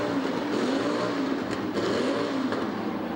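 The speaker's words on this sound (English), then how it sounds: "99 Ezra Orr, still your race leader in that bright red, number 99 BMW 320" BMW 320 E30 race cars from 1983 to 1990 racing in a New Zealand one-make series: a continuous loud engine roar with rising and falling revs as the cars pass close by.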